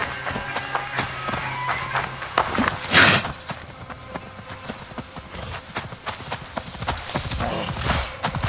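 Rhythmic hoofbeats of a horse walking in the video game Assassin's Creed Valhalla, a steady clip-clop pattern of hollow knocks close by, with a louder thump midway.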